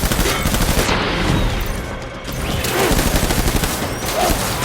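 Rapid bursts of gunfire in the Death Stranding video game, loud and dense, crackling continuously with only a brief dip before the shooting resumes.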